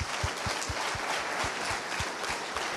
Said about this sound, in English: So please give a warm round of applause to Christian Decker.